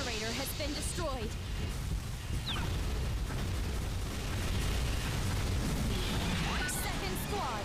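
A generator blows up in a Godzilla video game, a sustained heavy explosive rumble with crashing debris, layered under game announcer voices and constant battle noise.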